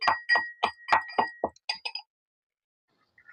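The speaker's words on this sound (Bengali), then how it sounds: "ছোটো হামান জিরে আমি কুটি নিচ্ছি" Cumin seeds pounded in a small mortar give sharp, ringing clinks, about eight quick strikes in a fairly even rhythm, close and crisp, then silence with a faint tap at the end.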